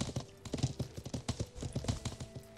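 Rapid, rhythmic hoofbeats of a galloping horse in the video game Life is Feudal clatter steadily throughout, loud and close, with no voices.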